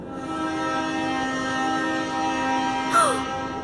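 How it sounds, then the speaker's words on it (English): A train whistle in the video game Shadowverse sounds once, briefly and fairly near, a rising then falling shrill tone over a steady layered hum of background music. "A train whistle."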